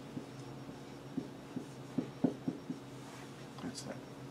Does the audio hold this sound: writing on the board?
yes